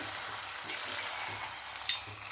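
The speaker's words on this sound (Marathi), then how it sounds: "आता छोट्या छोट्या ह्याच्यात पकोडे आपण टाकून घेऊया" Small sago pakoras drop into hot oil for a fasting-day snack and fry with a steady, close, bright crackling hiss that stays even throughout, with a brief sharper pop near the end.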